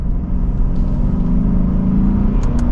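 A 2024 Lexus IS 500 F Sport Premium engine accelerates in eco mode in third gear, a loud, close, rising exhaust rumble that climbs steadily in pitch with no talk.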